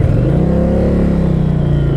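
A 2020 Indian Challenger motorcycle with a liquid-cooled high-performance V-twin accelerates hard, a loud, steady, close engine roar with rising pitch and no talk over it.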